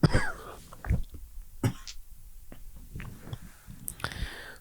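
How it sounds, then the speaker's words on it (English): Single close cough with a throat-clearing rasp near the start, followed by mouth and small handling noises and a few short vocal bursts, with quiet gaps in between. "Sorry for the cough there"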